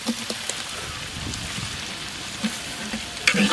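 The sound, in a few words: onion and green chili frying for rabbit biryani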